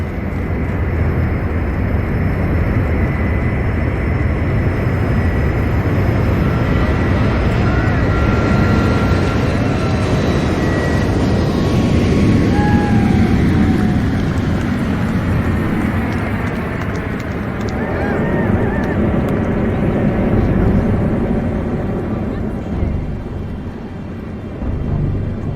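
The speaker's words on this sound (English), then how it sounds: "Let's just take a listen as this airplane gets ready for its very first takeoff." Airplane engines building to a loud, steady roar on its very first takeoff in rain, a dense broadband rumble with rising whine that holds for nearly the whole stretch before easing slightly at the end.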